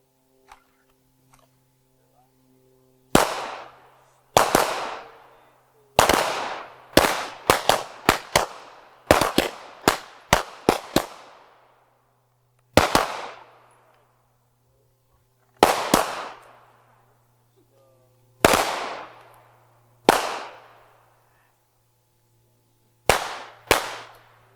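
Handgun shots at an outdoor shooting range crack out sharply one after another, some in quick clusters and others spaced seconds apart, loud and close with short echoing tails.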